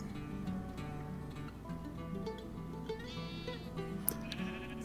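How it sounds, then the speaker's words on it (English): Sheep bleats from Minecraft sheep in a grassy biome, several short wavering calls over a steady background of game music and ambience, moderately loud throughout. "Sheep spawn in grassy biomes, usually in flat areas, and usually two or three at a time."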